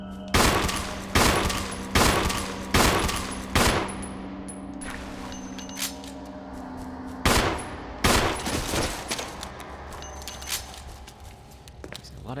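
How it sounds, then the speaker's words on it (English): Gunshots in Resident Evil HD, a run of sharp, loud reports in quick succession, then more spaced single shots with quieter game sounds between them. "Fired 2 shots that missed the target."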